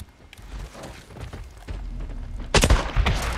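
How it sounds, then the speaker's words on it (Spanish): A sniper rifle fires in the video game Days Gone, a sharp loud shot near the end following softer thuds and low ambient game noise. "Un solo disparo de este franco"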